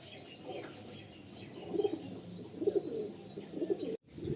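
Several pigeons coo softly in a small cage, low rolling calls recurring every second or so over a steady background hum, with faint chirps above.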